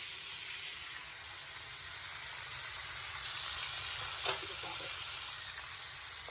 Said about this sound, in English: our chicken is ready to be removed from the oil